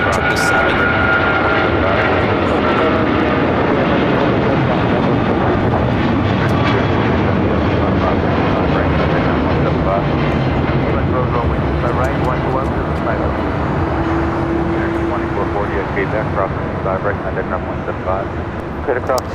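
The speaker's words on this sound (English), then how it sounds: "This is Aeromexico flight 646 coming in from Mexico City, a 787-8 Dreamliner" An Aeromexico Boeing 787-8 Dreamliner arriving at LAX from Mexico City fills the air with a loud, sustained jet roar that holds steady throughout, while voices talk over it.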